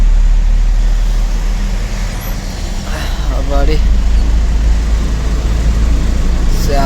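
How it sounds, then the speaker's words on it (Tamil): Heavy traffic roars steadily on a busy bypass road, with loud, close engine rumble and road noise throughout. Someone talks briefly over it. "இங்கே வீடியோ எடுக்கலாம்னு பார்த்தா வீடியோவே எடுக்க முடியல அவ்வளோ டிராஃபிக்கு"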